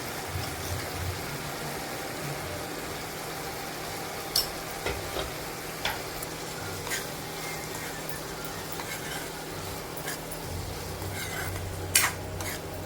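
Spices, turmeric and red and black masala, are stirred into guar bean vegetable in a pan, soft scraping and faint sizzle with a few sharper utensil taps against the rim, close and fairly quiet.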